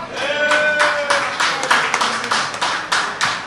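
A small group claps in loose, uneven rhythm at a live evening broadcast, close and fairly loud, with individual hand claps audible and a faint voice or tone underneath.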